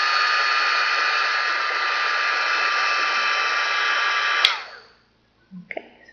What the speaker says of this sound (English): is to use your heat tool